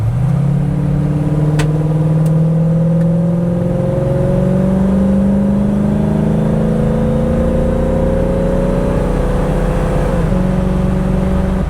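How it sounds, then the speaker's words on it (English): A 1968 Ford Mustang Sprint B with a 289 V8 and automatic transmission accelerating on a test drive, its loud engine note rising steadily in pitch through a long pull, then a brief dip near the end. "We got an opportunity here to get in the throttle a couple more times."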